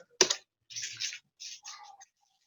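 Keys are struck on a computer keyboard while working in an Excel spreadsheet: one sharp louder press first, then several short bursts of softer clicking in quick clusters, close and isolated in a quiet room.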